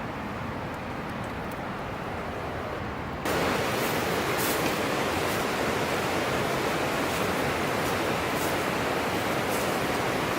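Forney Creek in the Smoky Mountains rushes steadily in March as continuous broadband water noise. It grows noticeably louder a few seconds in, as if the creek comes closer, and no one speaks.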